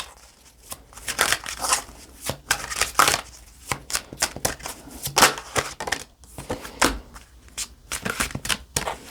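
A deck of tarot cards is shuffled by hand in irregular bursts of crisp riffling and slapping, close and clear with short pauses between.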